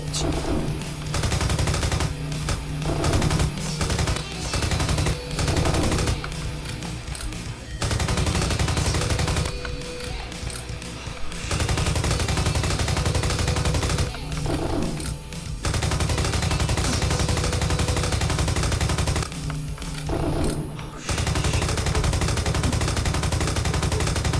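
Bursts of rapid gunfire in the video game Fortuito Lost History, loud and repeated, broken by short quiet gaps throughout.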